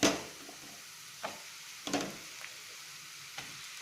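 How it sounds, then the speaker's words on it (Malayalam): Sliced onions sautéing in a pan for a tomato roast curry give a soft, steady sizzle, broken by a few sharp scrapes and clinks of stirring, close and fairly quiet with no talk. "സവാള ഈ കറിക്ക് ആവശ്യമുള്ള രീതിയിൽ വഴറ്റിയെടുക്കാനായിട്ട് ഏകദേശം 10-12 മിനിറ്റ് വേണ്ടി വരും"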